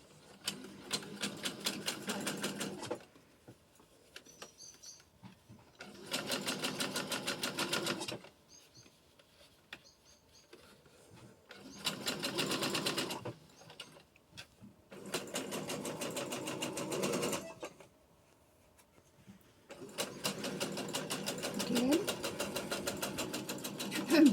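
A sewing machine stitches a fabric face mask in five loud, steady runs of rapid whirring, with quiet pauses between the runs.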